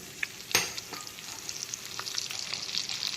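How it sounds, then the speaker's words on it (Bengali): Black cumin, cumin seeds and bay leaf sizzle as a tempering in hot oil left from frying elephant foot yam for a prawn curry, a steady close crackle with a sharp burst as the spices hit the oil. "তো দিয়ে দিচ্ছি কালো জিরে, সাদা জিরে আর তেজপাতা ফোড়ন"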